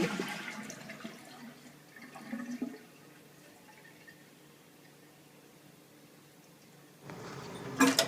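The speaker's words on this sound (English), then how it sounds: "take the lid off, and then we'll flush the toilet" A household toilet with its tank lid off flushes in a short rushing gurgle, then settles into a quiet trickle of refilling water before another louder surge near the end.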